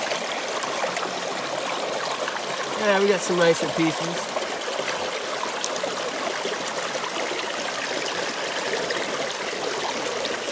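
Creek water streams steadily past while gold panning, a soft continuous trickle and gurgle, with someone speaking briefly over it partway through.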